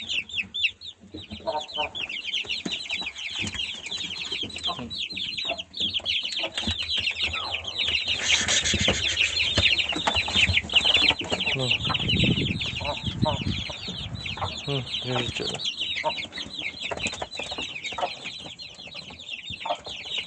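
Eight roosters and four hens cluck and chatter continuously, a busy flock close by, with occasional brief voices mixed in.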